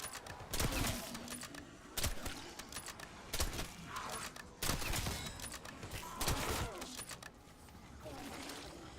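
Bursts of video game gunfire in a shootout, several sharp volleys spaced a second or two apart, loud and close, with a voice talking in between.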